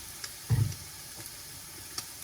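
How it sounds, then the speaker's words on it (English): Soft crackling of eggs and fried rice frying in a pan, with a brief louder sizzle burst and scattered quiet pops. "Now that'll really get it sizzling."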